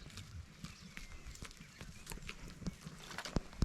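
Faint shuffling and light hoof taps of goats moving about on a barn floor, irregular and close, with occasional soft knocks.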